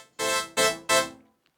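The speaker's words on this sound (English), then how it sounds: "we're going to start with the keys that sound all together like this" Three layered synth key patches playing chords together, recreating a song: three bright, punchy stabs in quick succession, each decaying briefly, clear and upfront with no voice.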